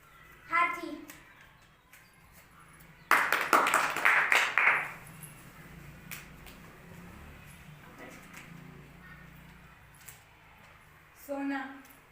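Young classmates burst into a short round of clapping for about two seconds in a quiet classroom, with a voice speaking before and after it.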